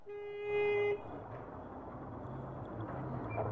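A car horn sounds one sustained, fairly loud honk lasting about a second, followed by a low rumble of traffic or an engine.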